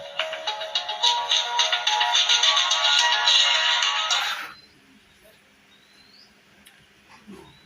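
A 5 Star BD55+ mobile phone switching on plays a loud, bright electronic startup melody of quick repeated tones for about four seconds and then cuts to near silence with faint room noise.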